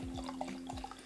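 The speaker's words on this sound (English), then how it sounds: "Let's pour ourselves a good portion of carbonated mead." Carbonated mead pouring into a glass, with bubbly splashing and a few droplet-like plinks over a steady fizzing stream, close and alone.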